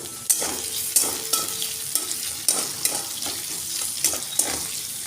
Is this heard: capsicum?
yes